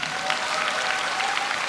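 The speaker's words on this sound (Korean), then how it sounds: "이 박수는 임영규 쌤에게 하는 걸로 믿고 있습니다" Sustained applause from a large audience at a Christian teachers' conference, dense steady clapping filling the hall with no break.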